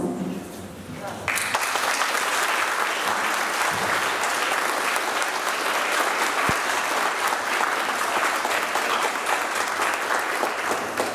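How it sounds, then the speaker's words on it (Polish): At a school year opening ceremony, a brief spoken passage gives way to sustained, dense applause from a large audience that continues loud and even for about ten seconds. "jeszcze raz ogromne brawa dla Pani Asi"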